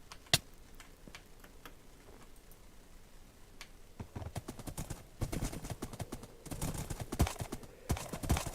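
Horse hooves clip-clop in the Seven: Ride for Ruin video game, faint sparse steps at first, then a quicker, louder run of hoofbeats building over the last few seconds.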